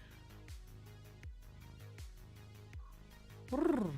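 A domestic cat vocalizes close by in a quiet room, a short rising meow or trill near the end after soft low rhythmic sounds, faint overall.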